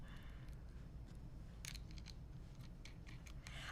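Scissors slicing through quilting fabric, a few quiet snips near the middle and end of the clip over a steady low room hum.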